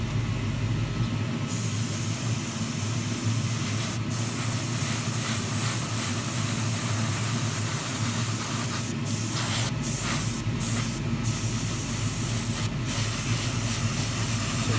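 Spray painting coats onto a part of a Tamiya Ferrari LaFerrari 1:24 scale model, a loud continuous airbrush-like hiss held steadily through the whole stretch, with a few brief clicks and no talking.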